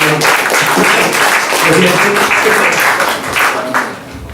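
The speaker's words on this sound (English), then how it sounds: "Round of applause, please." An audience at an arts and crafts school applauds to welcome film director Jack Sholder, loud continuous clapping that tapers near the end, with voices mixed in.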